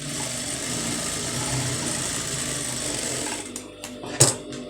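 A sewing machine runs steadily while stitching a patch design onto a blouse sleeve, a continuous close mechanical whir that stops near the end, followed by a few quiet handling clicks.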